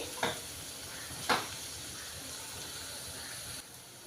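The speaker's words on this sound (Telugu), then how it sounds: "ఉల్లిపాయలు కొంచెం వేగాలి ఇవి బ్రౌన్ కలర్ వచ్చినంత వరకు వేయించుకోవాలి" Onions frying in a small pan until browned, a soft steady sizzle running throughout, broken by two brief louder scraping stirs near the start before the hiss eases slightly at the end.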